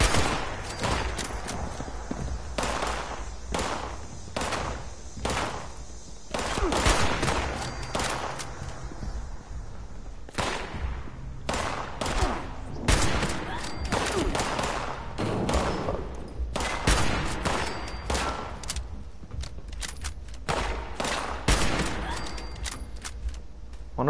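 A laser rifle fires in the video game Fallout 76, sending out sharp repeated shots in irregular bursts over a steady background.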